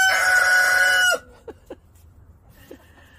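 A rooster named Bongi gives one loud, sustained crow for about a second, followed by a few short, quieter clucks from the flock.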